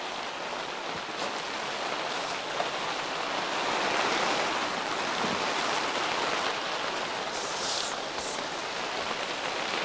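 Heavy rain drums steadily on a greenhouse roof, a dense, even patter that fills the space close around the listener with no voices.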